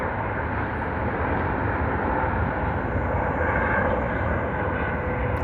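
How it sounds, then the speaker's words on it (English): A tour helicopter flying over the Las Vegas Strip, heard as a steady, broad rotor and engine roar that stays constant without any clear rise or fade. "There's one of the tour helicopters"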